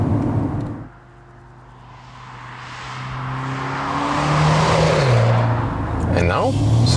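A BMW M135i accelerates on a countryside road, engine tone rising and falling loudly through the gears with a brief dip before building again, a voice talking over it.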